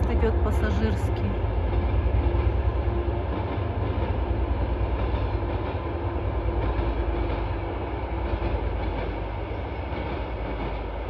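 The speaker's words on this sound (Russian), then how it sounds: "Поезд идет пассажирский" A passenger train rolls past nearby with a continuous loud rumble and rattling wheels, steady throughout before easing slightly toward the end.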